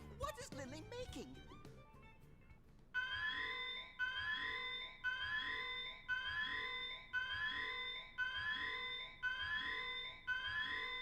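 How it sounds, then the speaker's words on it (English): A repeating electronic alarm in the sci-fi video game Xenoblade Chronicles X sounds in regular pulses about once a second, loud and steady after a stretch of game sound effects at the start. "We're not going to say anything about the alarm going off?"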